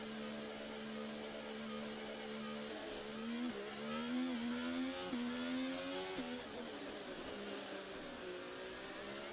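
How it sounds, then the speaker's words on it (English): A Formula 1 race car engine in the F1 24 video game drones steadily throughout, its pitch climbing and dipping in a few quick shifts midway through, with no talk over it. "Car doesn't sound like it's spluttering to me."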